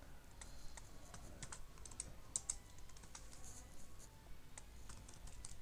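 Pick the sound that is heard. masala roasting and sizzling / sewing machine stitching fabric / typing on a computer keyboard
typing on a computer keyboard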